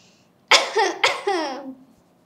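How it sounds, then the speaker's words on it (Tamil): A person coughs twice, two sharp harsh bursts close to the listener with a short gap between them, in a quiet room. "ஒரு இருமல் வருது"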